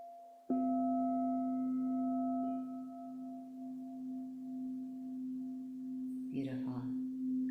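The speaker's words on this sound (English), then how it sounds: "Haven't had my sound bowls in a while." A crystal singing bowl struck once and left to ring, a steady pure sustained tone with faint overtones that lingers for several seconds before a brief clatter near the end.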